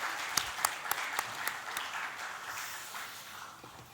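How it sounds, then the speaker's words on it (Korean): Congregation clapping in a church, beginning with several sharp separate claps and swelling into steady applause that fades slightly toward the end, moderately near. "우리 하나님께 영광의 박수 올려드리겠습니다."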